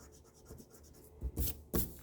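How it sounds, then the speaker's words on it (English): Pencil lines being rubbed out on paper with an eraser while drawing a one-point perspective cityscape; soft scratchy scrubbing builds into three louder, brisk back-and-forth strokes near the end. "I'm going to just erase the whole line out and all of this triangle out."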